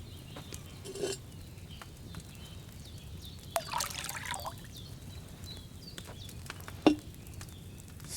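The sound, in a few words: wine poured into a cauldron, video game Kingdom Come Deliverance 2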